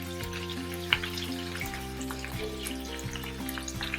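Curry leaves, crushed shallots, garlic and pepper sautéing in hot oil for a South Indian fish curry, a soft continuous sizzle with faint crackles, close and quiet.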